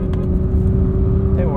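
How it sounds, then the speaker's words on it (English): A 2021 Nissan GT-R Premium sounds its horn in a snowy setting: a loud, steady single tone held for the whole moment, with no pause and no talk over it. "GTR horn test."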